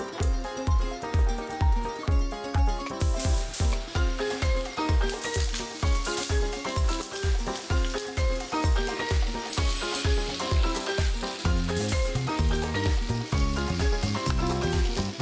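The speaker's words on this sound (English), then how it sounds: "you can start off by frying up the beans and the spices" Beans and spices frying in a pan in a cooking-competition kitchen give a steady sizzle, with rhythmic stirring or scraping pulses running throughout, loud and close.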